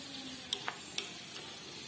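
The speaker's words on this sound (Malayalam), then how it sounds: "നമുക്ക് ഒന്ന് നന്നായിട്ടൊന്ന് വഴറ്റിയെടുക്കാം" Ingredients for biryani masala, seasoned with salt, sauté in a pan with a soft, faint sizzle and a few light stirring clinks.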